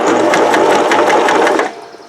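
A powered sewing machine stitches through a thick denim jeans hem at the seam intersection, a loud, close, rapid mechanical whirr that runs steadily and then slows and winds down to near quiet at the end.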